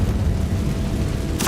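A Confringo fire spell blasts in the wizarding game Hogwarts Legacy, a deep rumbling boom with a sustained low roar, capped by a sharp bright burst of impact near the end.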